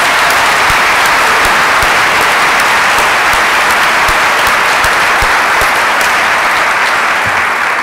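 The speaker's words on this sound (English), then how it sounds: "I think she deserves a big round of applause." Conference audience applauding steadily and loudly throughout, a dense wash of many hands clapping with no break.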